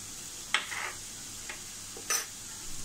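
Chunks of yam with Malvani masala and turmeric are stirred in oil in a pan, giving a few scraping spoon strokes over a soft, steady sizzle.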